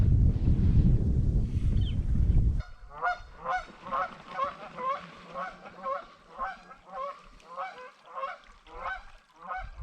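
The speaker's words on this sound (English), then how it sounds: "There goes the geese." Geese honk in a rapid, rhythmic series of calls at mid distance along a river, following a burst of wind rumble at the start.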